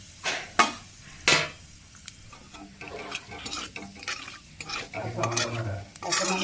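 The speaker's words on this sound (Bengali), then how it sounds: "কালো জিরে আর শুকনো লঙ্কা ফোড়ন এর মধ্যে দিয়ে দিচ্ছি" Black cumin and dried chillies crackle and sizzle faintly in hot oil for tempering, with a few sharp clinks of a utensil against the pan and quiet stirring scrapes throughout.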